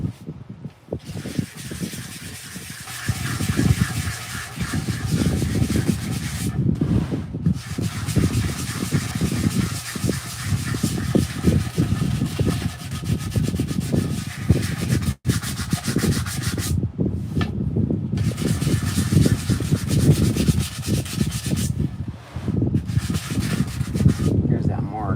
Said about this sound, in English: sanding a coffee table here